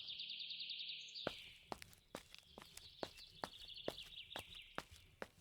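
In an animated story, bird chirps and song along a path past fields and trees in a light wind, over a steady run of footsteps or hoof clops, fairly close and faint overall.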